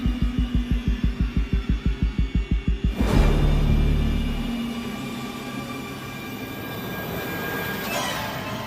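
Dark ambient soundtrack from the horror video game Alien Isolation: a rapid low mechanical pulsing for three seconds gives way to a sudden rushing swell and a tense, droning industrial hum with faint high tones.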